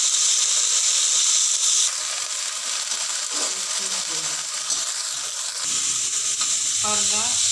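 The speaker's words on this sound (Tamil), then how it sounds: "பாருங்கள், இப்படி நல்லா வதக்கிக்கணும்." Curry leaves, chana dal, cumin and chillies sautéing in hot oil in a pan, a bright continuous sizzle with crackling, loud at first and then slightly softer, with some stirring scrapes near the end.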